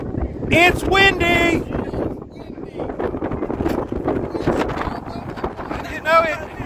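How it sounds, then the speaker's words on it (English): Steady wind buffets the microphone at an outdoor car cruise-in at a pizza stop in Springfield, Ohio, a rough low rumble running throughout under people chatting and singing along. "It's windy!"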